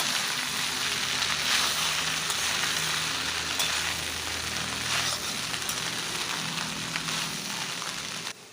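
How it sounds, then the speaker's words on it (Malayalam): Cooked rice is tossed and stirred in a hot pan over medium flame for lemon rice, with a constant close crackling sizzle broken by scraping stirs and occasional sharper clicks of a utensil against the pan. "ഇനി നമുക്ക് ചോറ് ഇതിലേക്ക് ഇട്ട് കൊടുക്കാം ഇനി നമുക്ക് ഒന്ന് ഇളക്കി ഒഴിപ്പിച്ചെടുക്കാം"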